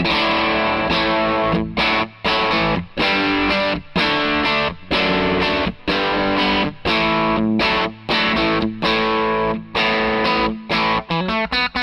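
Electric guitar through the low-gain side of an overdrive pedal, mild crunch, plays rhythmic chords and riffs, briefly choked between phrases, loud and continuous with no voices.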